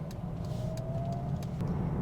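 A Mercedes-AMG A35 4Matic car drives through town, its engine a steady low hum with faint road noise, heard from inside and without talking.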